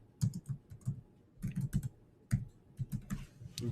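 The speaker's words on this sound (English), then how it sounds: "So I'm just going to type in cloud cover." Keys clatter on a computer keyboard while an entry is typed into a spreadsheet, giving irregular bursts of close, crisp clicks separated by short pauses.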